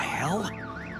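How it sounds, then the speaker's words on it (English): A car alarm in a Batman video game wails with a looping, sweeping electronic tone that rises and falls in quick cycles, fairly loud and close, over a low game backdrop. "My bat stunner would set off the car alarm."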